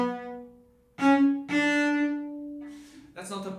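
Cello tones bowed in short phrases, each long note cut off abruptly into silence rather than released, with a rich harmonic sound between brief gaps.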